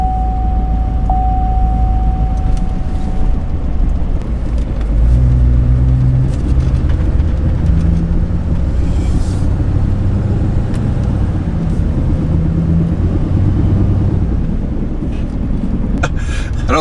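Loud 4x4 truck drives with a steady engine and road rumble, its driveshaft vibrating, with wind buffeting and low tonal hums rising and falling with wheel speed throughout.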